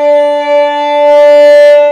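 Violin double stop of a low D and a high D bowed together in tune, a steady sustained two-note chord held alone for about two seconds, close and fairly loud.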